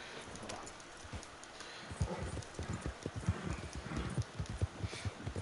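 Horse hooves clip-clop in the Red Dead Online video game, a steady rhythmic gait that starts after a quiet moment and runs on close by, with no talking.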